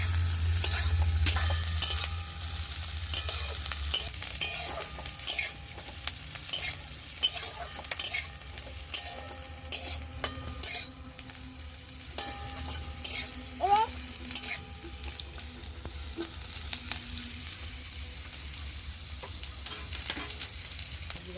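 Garlic and green chili fry in a pan while being stirred, a continuous sizzle with frequent scraping and clattering strokes throughout, close and fairly loud, with no talking.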